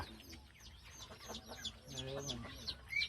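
Laying hens cluck softly nearby in a home garden, with a run of short, throaty calls. A faint voice is heard in the background.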